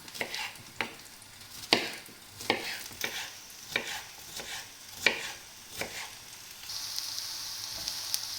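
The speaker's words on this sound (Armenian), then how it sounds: "Հետո անմիջապես ավելացնելու ենք սմբուկին ու իրար հետ տապակելու ենք շատ քիչ աղով" Eggplant and vegetables fry in a pan with a little salt, a steady low sizzle broken by sharp, regular scrapes and stirring knocks every second or so, close by, with a brighter hiss swelling near the end.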